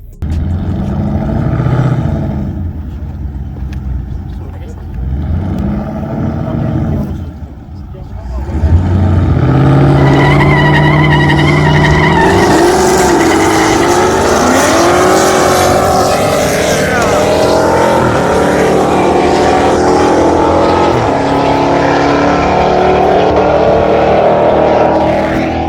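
A drag car on Mickey Thompson drag radial rear tyres at 16 PSI idles briefly, then launches into a long, loud, rising engine roar that climbs steadily, with talk over the start.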